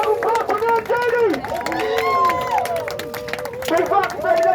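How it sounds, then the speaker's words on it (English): A crowd at an event for Mayor Janie claps and cheers steadily throughout, loud and close, with excited voices and whoops mixed into the applause. "let's give a big round of applause for Mayor Janie"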